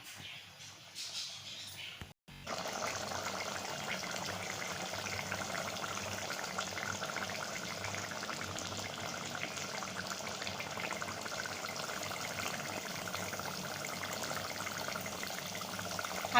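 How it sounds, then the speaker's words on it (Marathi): Spicy homemade chicken curry with garam masala bubbling at a steady boil in a pot, a continuous close watery churning and gurgle that holds evenly for many seconds after a brief quieter start. "आपल्या चिकनला छान उकळी आलेली आहे"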